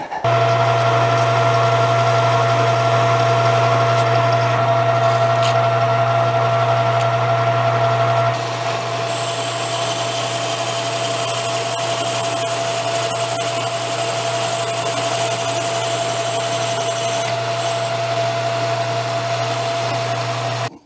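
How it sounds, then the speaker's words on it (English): A small part for an Aermacchi motorcycle's gear shifter is sanded on a machine, producing a continuous loud droning whir with a steady hum that shifts pitch slightly partway through, close up and unbroken by speech. "So I think what I'm gonna do, sand it."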